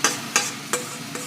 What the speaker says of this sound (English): we're going to saute it up so it'll be beautiful for our frittata